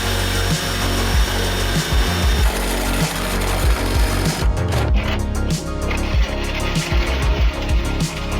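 A power drill bores a large hole for a diesel heater turret, a loud continuous grinding cut with repeated low bumps and rasping bites, the tone thinning and changing partway through as the cut progresses.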